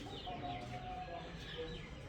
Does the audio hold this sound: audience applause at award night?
no